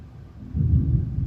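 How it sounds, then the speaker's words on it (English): Thunder from a storm outside, heard indoors as a low, muffled rumble that swells after a quiet start and rolls on steadily, alone without talk. "oh, there's the thunder."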